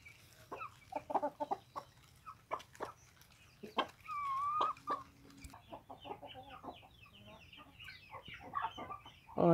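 A broody hen clucks repeatedly in short bursts inside a henhouse, close by, with other soft farmyard chatter and a few higher calls mixed in.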